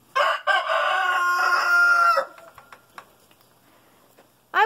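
A chicken cries out loudly and repeatedly at close range, followed by softer clucks and scratching sounds, then another loud call.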